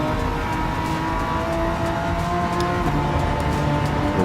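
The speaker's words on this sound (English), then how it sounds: "Just hear the wheels spinning." A race car in Gran Turismo 7 on PS5 loses traction on acceleration, its wheels spinning with a loud, steady engine roar and tire squeal throughout, no pauses.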